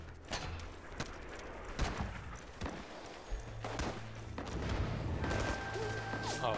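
Gunfire in the Rising Storm video game, aimed at the player, heard as scattered sharp shots and thuds at varying distances amid a steady battlefield rumble.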